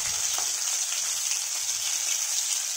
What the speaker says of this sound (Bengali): তো একটুখানি বেশিক্ষণ ভাজতে হয়নি, অল্প আঁচেই ভাজলে হয়ে গেছে